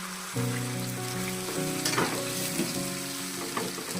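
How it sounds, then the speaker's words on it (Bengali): Chicken pieces dropped into hot spice paste for Bengali-style chili chicken, sizzling and frying loudly with steady stirring and scraping throughout, no talk. "মাংসটা পুরোটা দিয়ে দেবো মশলাটার মধ্যে"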